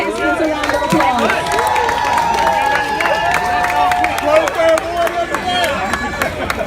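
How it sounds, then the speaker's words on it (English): A crowd applauds and cheers the contestants at an outdoor pepper eating contest, with a busy, continuous mix of clapping, shouts and overlapping voices. "Give Big Mac and all our contestants a round of applause."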